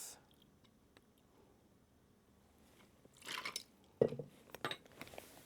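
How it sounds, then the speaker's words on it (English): A Manhattan variation with rye whiskey, dry vermouth and Angostura bitters is stirred in a glass, giving near silence and then a close burst of clinking, rattling ice and spoon sounds in short uneven bunches. "2 dashes of Angostura, maybe 3, and we just give that a stir."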